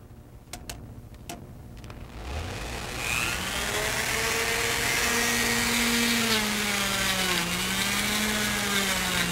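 Lionel operating milk car cans being buffed and polished on a motorized buffing wheel, a steady loud whirring drone that starts after a few faint ticks and rises, holding with wavering pitch to the end.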